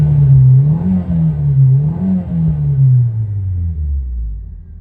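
A 1999 Nissan Silvia S15 Spec R engine at idle gets a few quick blips of the throttle, the low exhaust note rising and falling in short repeated revs close by before settling back down.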